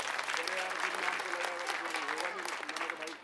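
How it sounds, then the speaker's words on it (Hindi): Loud, sustained applause from a large crowd at a Delhi election rally, with dense clapping and cheering filling the space continuously for several seconds. "मैं चाहूंगा हमारे कार्यकर्ताओं के लिए एक बार जोरदार तालियां आप लोग"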